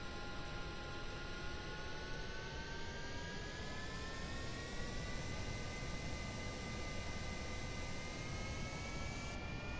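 A jet engine on an aircraft in Kerbal Space Program runs at full throttle during a takeoff roll down a runway, giving a steady, unbroken roar with a faint rising whine over broadband rushing noise.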